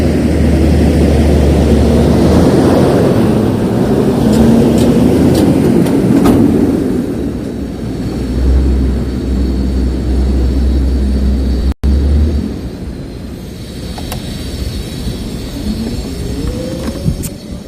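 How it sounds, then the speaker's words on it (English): A giant truck rolls past on a New York City street, its loud, deep engine rumble dominating up close before easing off, with faint squeals and traffic noise lingering afterward. "I could not hear you over that giant truck"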